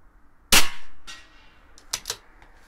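A CZ 457 LRP rimfire rifle with an IBI barrel fires CCI Pistol Match ammunition at a 100-yard competition: one sharp, loud crack with a short decay, followed by a couple of fainter clicks.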